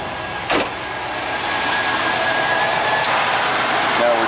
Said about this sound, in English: Okay, heard the AC compressor kick on